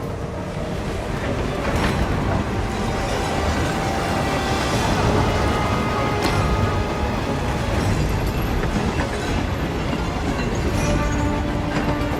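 A moving train in Hitman rumbles steadily and loudly for the whole stretch, with continuous rolling noise, faint clanks and occasional metallic squeals on top.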